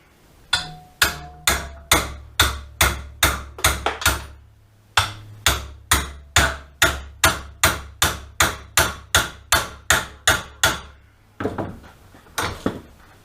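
A hammer strikes a thick metal bar being bent into shape, about twenty hard ringing blows in a steady rhythm with a short pause partway through, then a few final hits.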